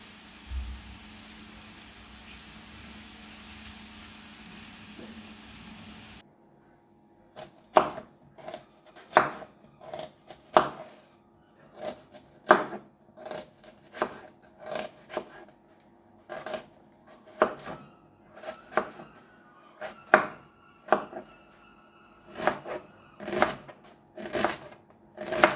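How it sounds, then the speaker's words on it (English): A knife chops an onion finely on a board for fajitas. Quiet room tone comes first, then a long run of crisp, close chops in uneven bursts. "then going across the other way, chop it finely"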